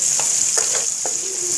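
Capsicum and cabbage stir-frying in a pan for chicken biryani: a loud continuous sizzle with a few quick spatula scrapes over it, close and alone.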